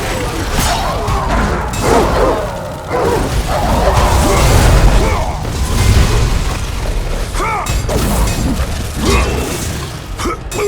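Explosions of small Cerberus pups in the video game God of War III, repeated bursts and crashes spread through a dense, busy battle mix with mechanical clanks and growls, loud throughout.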